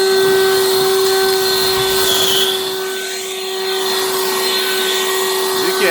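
A Harbor Freight Lynxx 40V cordless leaf blower roars loud and close on its turbo setting, a steady high-pitched whine with one brief dip in pitch partway through.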